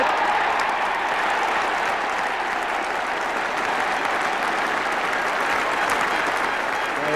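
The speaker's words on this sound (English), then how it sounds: "Gary Sobers, applauded by the England side" A cricket crowd at an England v West Indies Test in 1973 applauds Gary Sobers reaching his century, sustained even clapping filling the ground at a steady level.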